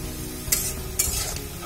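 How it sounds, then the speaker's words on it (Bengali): Onions and spices are stirred in a frying pan for a Bengali fried green chili and shrimp dish, with a steady sizzle underneath and two brief, sharp scraping strokes from the spoon. "পেঁয়াজগুলো অ্যাড করার পর আমি ভালো করে মশলাগুলো মিশিয়ে নিচ্ছি।"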